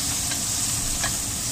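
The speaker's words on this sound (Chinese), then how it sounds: "呢邊都係煎咗塊皮嗰邊先" A silver cod fillet pan-fries skin side down in hot oil, giving a steady, close sizzle that runs throughout, with a couple of faint clicks from the pan.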